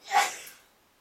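A single short, breathy sneeze burst, close and fairly soft, fading quickly into quiet.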